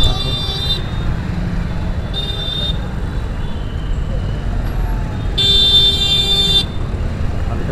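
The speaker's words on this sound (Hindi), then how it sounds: "यहाँ पे फिर से जाम लग गए, देख सकते हैं भाई लोग बहुत ही जाम लगे" A jammed town street in Silchar has loud, close car horns honking in repeated bursts, a short one at the start, another a couple of seconds later, then a longer blast. Low traffic rumble runs underneath throughout.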